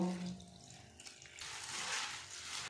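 Water splashes and swirls in a bowl as flattened rice (chira) is rinsed by hand, a steady close washing sound that grows fuller and brighter midway.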